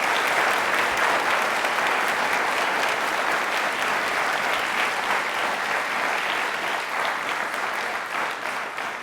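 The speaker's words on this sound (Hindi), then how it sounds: "एक बार वापस से सभी के लिए तालियां जोरदार" Loud, sustained applause from a studio audience at a televised quiz show, a dense wash of clapping that continues steadily for several seconds and eases slightly near the end, with no voices over it.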